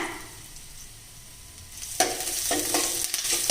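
Crushed garlic and curry leaves fry in oil for a drumstick rasam: a quiet pan at first, then a loud burst of crackling sizzle that keeps spitting and popping, close and without talk.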